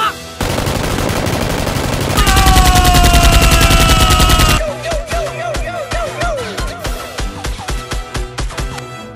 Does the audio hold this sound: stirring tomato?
no